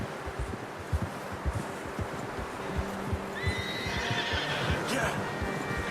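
Horse whinnying in the Red Dead Redemption 2 video game, a brief high neigh rising over steady hoof clip-clop and rustling outdoor ambience.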